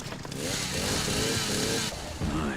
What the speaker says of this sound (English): Give me the chainsaw.